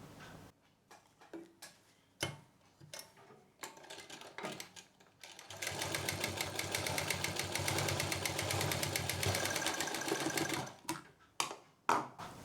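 Sewing machine stitching leftover fabric to close the opening of a small potli pouch, a steady dense mechanical whir running for about five seconds after a few scattered taps and handling knocks.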